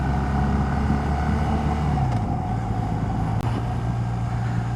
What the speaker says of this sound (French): Il y a pas mal de voitures, il y a de la circulation là.